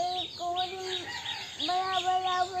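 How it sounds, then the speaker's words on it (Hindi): Domestic chickens, brown and black hens, cluck and give tonal calls nearby in a few short repeated bursts, with faint voices in the background. "ये कौन सा मुर्गी है, ब्राउन वाला मुर्गी, वो ब्लैक वाला मुर्गी है ना"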